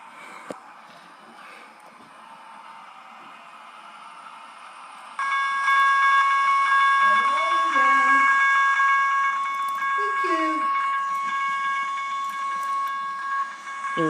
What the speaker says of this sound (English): Vermonter train is coming.